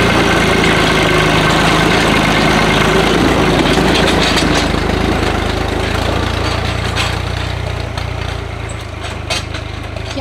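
A small farm tractor used for hauling hay bales idles loudly nearby with a steady low rumble and mechanical vibration that eases slightly toward the end, with no talking.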